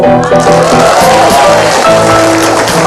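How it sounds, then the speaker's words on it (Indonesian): A studio audience on the Indonesian live talk show Hitam Putih gives a guest a loud, dense, sustained round of applause that fills the whole stretch. "Tepuk tangan dulu buat Anu"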